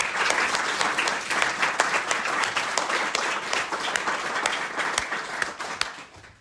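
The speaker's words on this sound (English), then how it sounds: "give a big round of applause to everybody who's participated" Audience applause at an AI doctoral training centre event, a moderate room of people clapping with distinct individual claps audible, steady for several seconds and then thinning out.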